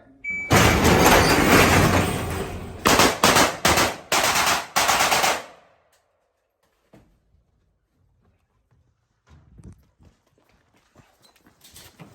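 Rapid strings of gunfire at a 3-gun shooting match, loud bursts of shots in several quick groups over the first few seconds, followed by quiet with scattered faint clicks and handling noises.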